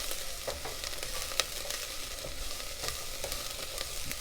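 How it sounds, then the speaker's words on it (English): Garlic and onion fry in oil in a pan, a steady close sizzle with occasional stirring clicks and one sharp tap, and no voices. "Look at all that oil that's going to hit the pan. And we're throwing that garlic in with the onion"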